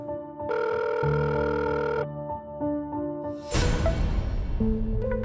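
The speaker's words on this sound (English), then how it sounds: "hearing a ringtone in the house" A phone ringtone rings inside a house in an animated story, a loud tonal melody of steady repeated notes, then a sudden noisy burst and another ring tone near the end.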